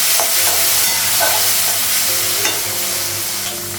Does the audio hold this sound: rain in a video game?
no